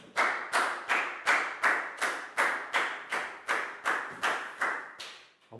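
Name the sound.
class applauding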